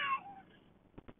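Cats meowing in a carrier during an RV resort evacuation from a wildfire: one clear high meow at the start, then a few short faint sounds, close and quiet.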